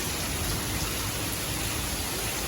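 Rain falling steadily outdoors, a dense, even hiss of drops that stays constant and fairly loud throughout, with no voices heard.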